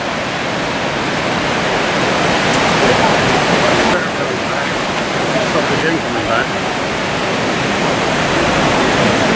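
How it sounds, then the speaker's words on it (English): Large waterfall in Norway, partly frozen with reduced flow, roars as a dense, steady rush of water, loud and continuous, with people talking nearby. "huge waterfall here."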